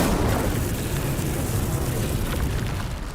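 The Incendio fire spell in the Hogwarts Legacy video game lets out a steady, roaring whoosh of flame with an explosive rumble, loud and close, holding for about three seconds before easing slightly.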